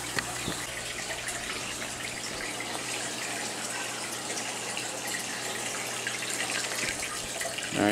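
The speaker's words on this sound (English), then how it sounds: "I'm going to go ahead and put him back into the aquarium." Baby tarpon being put back into aquarium water, with continuous splashing and gushing water noise over a steady low hum from aquarium equipment.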